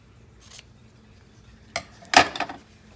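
Scissors cutting a magazine page in half: a faint opening snip, then two crisp close snaps of the blades followed by a light papery rustle, with no one talking.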